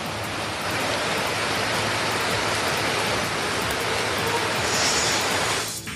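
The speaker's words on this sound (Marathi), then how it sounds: "बारामती शहर आणि परिसरात पावसाची संततधार सुरू आहे" Continuous heavy monsoon rain over Baramati town and its surroundings, a steady dense hiss of falling water with no pauses and no voices.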